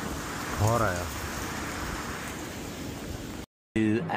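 Heavy rain pours during a storm in Dubai as a loud, continuous, dense hiss. A brief voice surfaces early, and the sound cuts out for a moment near the end before resuming.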